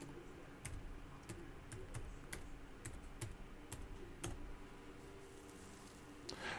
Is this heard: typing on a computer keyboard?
yes